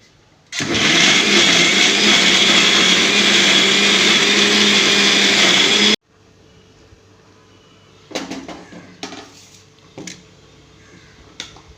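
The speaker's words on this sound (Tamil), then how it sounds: "எல்லாம் போட்டு 1-2 2-3 சுற்றி வலிக்கணும். ரொம்ப மையாக அரைக்கக்கூடாது." Kitchen mixer grinder coarsely grinding shallots and onions in one loud, steady whirring burst of about five seconds that stops abruptly, followed by a few faint clinks and knocks.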